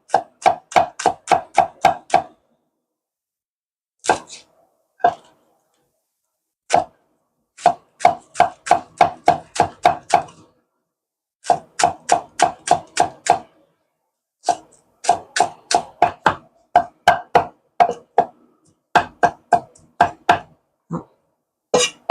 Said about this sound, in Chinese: 葱这样子切一半，对半切，这样切开，我们要葱末。